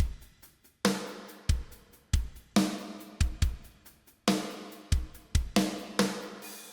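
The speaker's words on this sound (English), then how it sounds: "I took the tom out and I switched to a hi-hat instead of a ride or a crash" A programmed heavy shoegaze verse drum pattern in FL Studio, with hi-hat replacing ride or crash and no tom, pounds out loud kicks and snares in a steady rock groove with decaying crashes.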